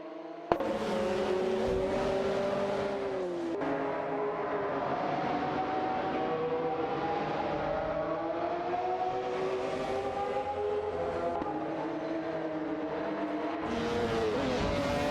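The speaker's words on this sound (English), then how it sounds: "Feds in a McLaren F1 and Gary No Name in a Porsche 911 GT1 are locked in a tight battle for the 10th position." Race cars in a racing video game, including a McLaren F1 and a Porsche 911 GT1, roar steadily with high whining engines that rise and fall through gear changes, loud and continuous with no talking.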